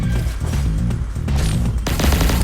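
Neutron Pulsator weapon in the Pixel Gun 3D video game firing a continuous loud burst of rapid shots with heavy low-end thumps, intensifying near the end.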